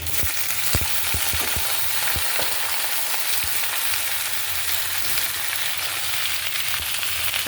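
Winter vegetables frying in oil with reddened onions, a loud dense continuous sizzle with a few quick knocks and stirring taps early on, close.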